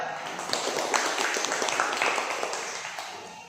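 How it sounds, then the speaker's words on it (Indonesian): A classroom of students claps hands together in a brief, faint, continuous patter that fills the room evenly. "Tepuk tangan dulu."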